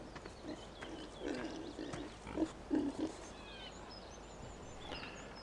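Pigs in the Farming Simulator 17 video game grunting and oinking in a few short bursts, faint and close, with light bird-like chirps in the background.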